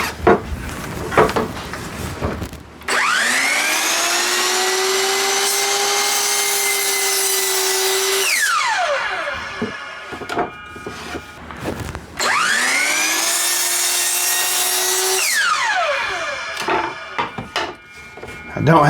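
A power saw cuts through wood in two loud passes, each a steady high whine that winds down with a falling pitch, with workshop clatter and short pauses between the cuts.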